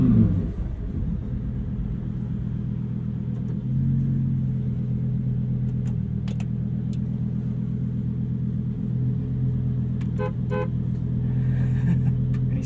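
A 2023 Lamborghini Huracan Tecnica pulling off on a street gives a steady, low engine rumble that swells slightly a few seconds in and then holds an even drone, with a few faint clicks.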